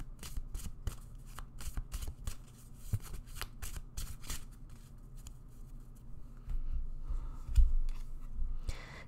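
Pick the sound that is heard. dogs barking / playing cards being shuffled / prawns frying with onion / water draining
playing cards being shuffled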